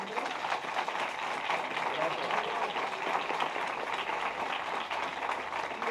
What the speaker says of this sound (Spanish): nos resta por darle un súper aplauso al maestro Alejandro